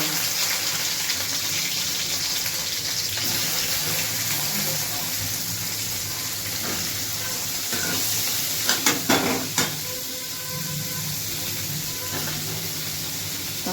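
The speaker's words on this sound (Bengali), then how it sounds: "সেই একই তেলেই আপনি আলুটাকে তুলেই সে ঢ্যাঁড়স যেগুলো কাটা ওগুলো তেলে দিয়ে দেবেন।" Cut okra dropped into the same hot oil used for frying potatoes, sizzling loudly and steadily, with a brief burst of crackling and spoon knocks partway through, close to the pan, while someone talks softly.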